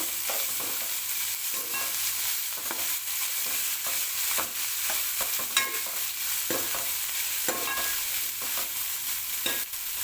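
Ginger garlic paste stirred into frying bitter gourd, a continuous loud sizzle and hiss with frequent scraping strokes of the spoon across the pan.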